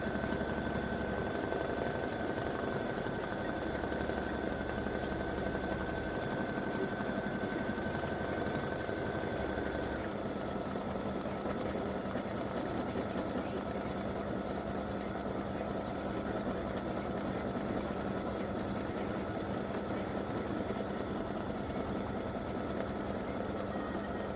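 An embroidery machine runs a satin stitch around appliqué parts of a Thanksgiving turkey game piece, a fast, continuous mechanical whir close by that holds steady throughout, with a slight change in pitch midway.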